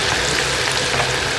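Onions fry in a pan with a loud, close, continuous sizzle and crackle, unbroken and without any talk.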